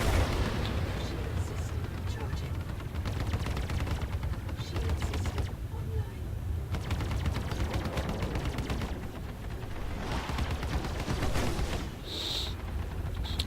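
Big guns fire from a Cutlass ship in the Star Citizen video game, a dense, continuous run of booming shots and blasts that stays loud throughout, with a voice briefly audible underneath.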